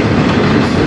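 A freight train rolls past at Fostoria, Ohio at first daylight, a steady, loud, dense rumble of railcars and wheels with continuous clatter and no break.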